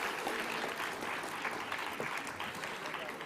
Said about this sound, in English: A big round of applause for Padamjeet ji.